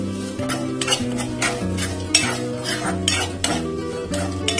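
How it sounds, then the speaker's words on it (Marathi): Cashews, almonds, melon seeds and raisins sautéed in a pan, with rapid, repeated metal spoon strokes clinking and scraping against the pan over a light sizzle, close and fairly loud, no voices. "मी काजू घेते, बदाम, मगजचे बीज, थोडेसे किशमिश. ते सगळं परतून घेऊ आपण."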